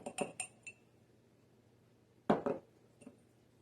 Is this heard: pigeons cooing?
no